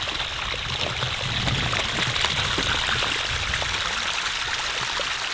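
Muddy water squeezed from a trail puddle by a passing off-road vehicle trickles down a rocky desert trail. A close, steady, hissing run of water continues without breaks.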